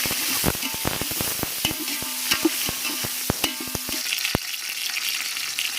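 Masala with curry leaves, green chillies, mint and coriander frying for a rabbit curry, a steady sizzle broken by sharp clicks and scrapes of stirring, close and clear with no voices.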